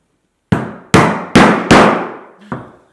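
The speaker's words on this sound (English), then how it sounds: "I'm going to rivet this together in an X shape" Five sharp hammer strikes drive rivets into a leather plant hanger, each a loud, close impact with a short ringing decay, spaced about half a second apart after a moment of silence.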